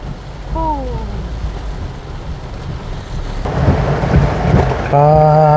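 Steady heavy rain hisses and pours, with a low rumble building midway and a louder roar of downpour toward the end; faint tones briefly sound.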